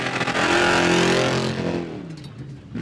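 Off-road trophy truck on huge 40-inch tires with an oversized engine roars loudly at the King of the Hammers desert race start, the revving note swelling then fading away over a few seconds.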